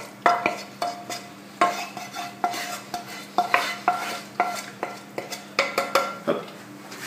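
A spoon scrapes and clinks against a bowl while onion tart filling is poured into a puff pastry tart dish. The clinks are sharp, rhythmic and fairly close, with a faint steady hum beneath and no talking.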